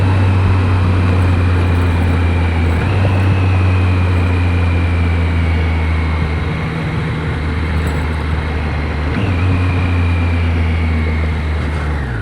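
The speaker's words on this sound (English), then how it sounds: "Let's see if you can hear these downshifts" A motorcycle slowing for a highway exit with its engine droning loud and steady under heavy wind, pitch shifting at two points that mark downshifts.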